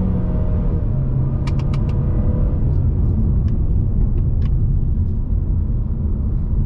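A Ford Mustang with a four-cylinder EcoBoost engine on a test drive gives a loud, constant cabin rumble of engine and road noise from inside the car, with a few faint clicks over it.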